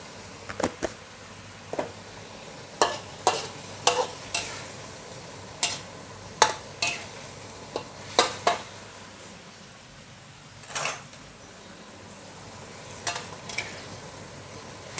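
Chicken with holy basil and glass noodles stir-fried in a pan with oyster sauce and sugar: a soft, steady sizzle punctuated by repeated spatula scrapes and clanks against the pan, with no talking.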